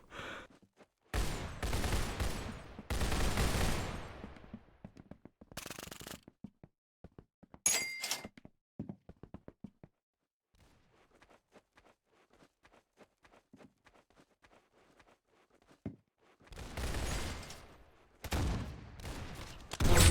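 Rapid bursts of gunfire from the Roblox-style shooter game Arsenal come in loud, dense clusters at the start and end, with a quieter stretch of faint clicks and scattered shots between them.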